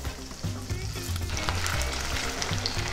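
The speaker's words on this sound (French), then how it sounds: "On place nos pommes de terre dans le sautoir" Potatoes fry in a sauté pan, a dense, even sizzle of hot fat that holds steady and close throughout, with faint crackles and no voices.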